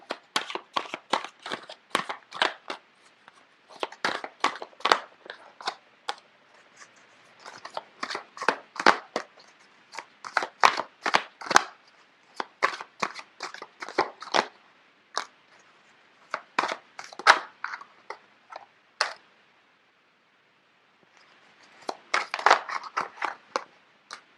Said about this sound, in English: I don't know why the cards are just flipping left and right.